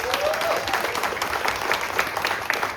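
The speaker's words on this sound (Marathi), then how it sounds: "जरा टाळ्या अगदी जोरदार झाल्या पाहिजेत" Steady, dense audience applause at a press conference launching a Marathi TV serial, continuous clapping from a crowd filling the room without letup.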